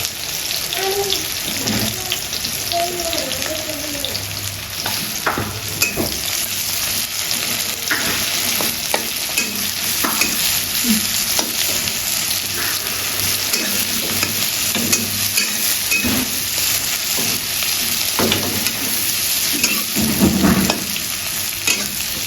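Onions and cucumber fry in oil in a wok, a steady close sizzle running throughout with scattered stirring scrapes and clinks, a constant hiss underneath and a slightly louder burst of frying near the end.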